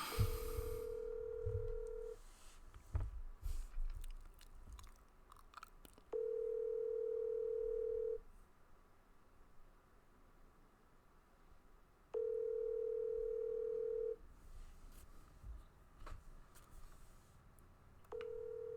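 A telephone ringback tone sounds over the line in a steady pattern: four two-second tones separated by roughly four-second gaps of faint background noise, with no talk.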